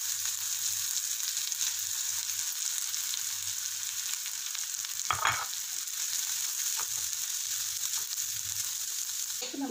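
Shredded cabbage and carrot sizzle steadily in a hot pan with a splash of soy sauce, a continuous hiss with a few louder scraping stirs partway through and near the end.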